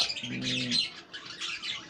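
Pet budgerigar in a cage giving a short burst of chirpy, warbling calls, close and fairly soft, with a low hum briefly underneath.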